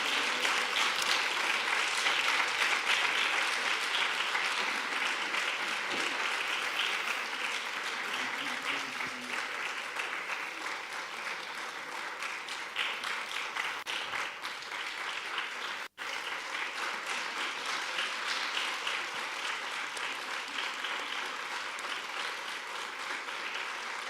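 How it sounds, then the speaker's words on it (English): Sustained audience applause at a European Diamond Capacity Hub presentation, a steady dense wash of clapping from a crowd that holds fairly even for over twenty seconds with only slight fading. "Please join me in thanking their efforts with a big applause."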